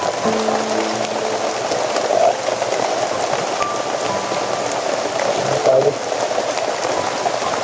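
Rain falls steadily in a dense, close patter on surrounding surfaces, a continuous hiss with occasional faint tonal sounds in the background.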